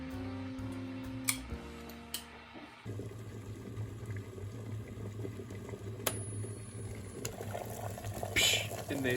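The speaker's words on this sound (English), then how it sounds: "Now I'm going to go ahead and boil some water and get that going." Water heating in a pot on a stove for making instant coffee, a faint low rumbling and simmering hiss with occasional small ticks and clicks, quiet and continuous.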